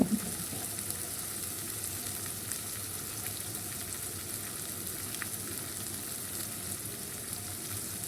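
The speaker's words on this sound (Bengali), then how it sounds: "আমি সামান্য তেল দিয়ে নিলাম। কিছু পেঁয়াজ কুচি, রসুন কুচি এবং মরিচ কুচি দিয়ে দিলাম।" Chopped onion, garlic and chili fry in a little oil, making an even, steady sizzle that runs close and fairly quiet throughout, with only faint occasional stirring and no voice.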